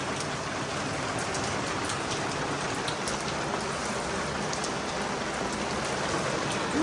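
Steady rain falls at night in a village, a constant even hiss of drops on surfaces lasting several seconds with no voices.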